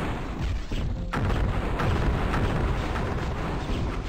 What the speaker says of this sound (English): Now you can fire Phoenix Rod shots at them.